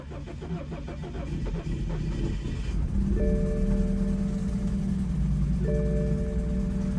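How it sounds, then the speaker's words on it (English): A BMW F30 328i with the N20 engine cranks over, catches and settles into a steady idle with a faint whine on top, loud and close, and nobody speaks. "We're gonna try starting it up."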